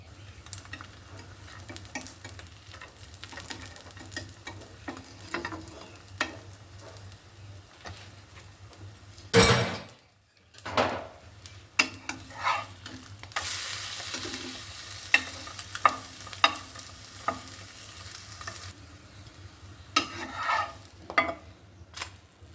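Eggs fry in a pan with steady sizzling while a spatula stirs and taps repeatedly against the metal, a loud clatter and brief pause midway, then renewed scraping; no one speaks.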